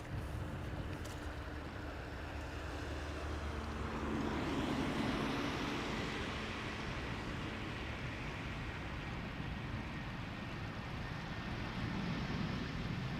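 A four-year-old Ryanair Boeing 737 MAX 8 from Malaga lands at Amsterdam Schiphol in humid air, a faint, distant, steady jet roar that swells briefly before settling, with no reverse thrust.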